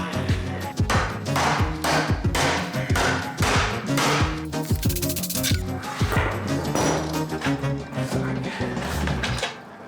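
Repeated hard metallic strikes pound on a stuck part of the pump on a 25-year-old neglected pressure washer. The close, loud blows come in an uneven rhythm, each with a ringing, resonant tone.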